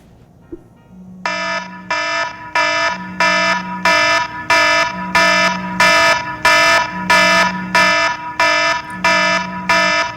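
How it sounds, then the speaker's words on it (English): A loud electronic alarm rings in a steady, repeating pattern of bright beeping bursts, about a dozen in a row, with a lower tone between them. "that's your alarm."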